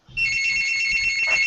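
A mobile phone rings loudly and close by, a bright continuous electronic ringtone that begins abruptly and sounds alone without speech.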